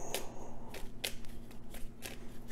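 WWE trading cards being shuffled by hand, a few short papery riffle bursts spaced about a second apart, close and fairly quiet with no talk.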